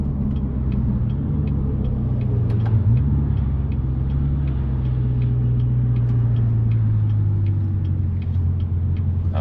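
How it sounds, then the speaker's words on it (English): A 2014-2019 Chevrolet Corvette C7 with a 6.2L V8 and a 3-inch MBRP active-profile quad axle-back exhaust in track mode cruises on a highway, giving a steady, loud, deep engine drone with slight pitch shifts and no talk. "Take it up the other side of the highway and show you what the track mode sounds like."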